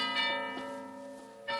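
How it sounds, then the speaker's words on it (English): A monastery bell rings in an old-time radio drama set near a deserted waterfront monastery in the evening, one sustained resonant tone with lingering hum, then a fresh strike at the end. "The monastery bell is ringing."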